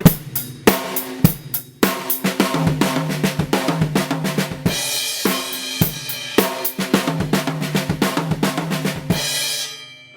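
A drum kit rattles through a quick linear fill of rapid hits, with some notes landing on the rack tom, punctuated by loud cymbal crashes.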